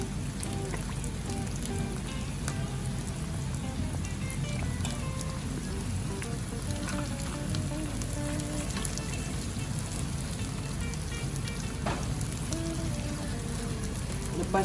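Thick coconut milk frying in a pan of green curry for chicken curry, a dense, steady crackling sizzle like rain that carries on unbroken at close range.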